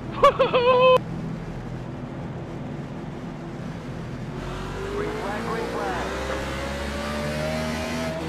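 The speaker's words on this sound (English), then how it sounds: "Wound those engines up tight." Race car engines from a NoBullMotorsport Cup Series video game race at Texas drone steadily under crowd-like noise, then the pitch climbs into a loud rising rev as the pack launches, with a brief tonal burst at the very start.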